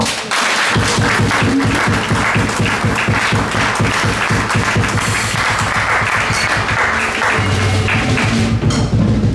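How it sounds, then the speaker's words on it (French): Loud, sustained applause and clapping from a church congregation at an evangelical community seminar, dense and continuous throughout, with cheering voices mixed in. "Et acclamons encore une fois."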